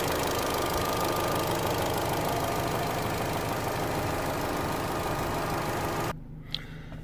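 A Vauxhall/Opel Insignia 1.8 engine, running lean with fault code P0171, idles steadily with a broadband rumble for about six seconds, then cuts off abruptly, leaving quiet room tone and a faint brief click.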